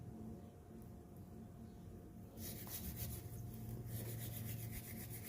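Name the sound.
scrubbing clam shells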